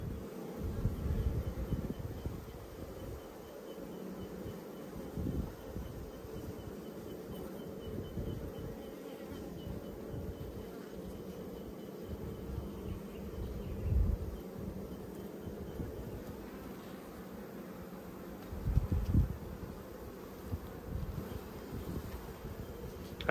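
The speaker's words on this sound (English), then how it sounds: "And again, look, just a huge coverage of bees." A dense swarm of bees hums steadily at an open hive during an Australian hive inspection, a continuous near drone with occasional louder passes of single bees close to the microphone and no talk.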